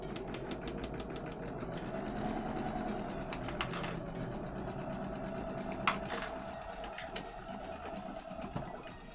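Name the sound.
sewing machine stitching around plushie fabric edge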